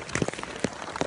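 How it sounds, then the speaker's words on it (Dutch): Heavy rain patters during an outdoor walking event, with dense irregular drops striking a poncho or nearby surfaces close up, steady and fairly loud, without speech. "Het regent heel hard, vind ik."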